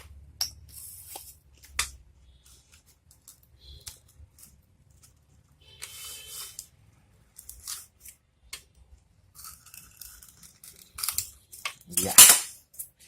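Scissors snipping parts of a foam Skysurfer V4 model aircraft kit, a scattered series of quiet close cuts and clicks with pauses between, ending in a sharper louder snip.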